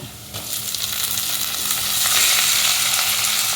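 Chopped ginger and green tomato frying in a pan, a loud, close, steady sizzle that swells as the pieces hit the hot oil, with light stirring.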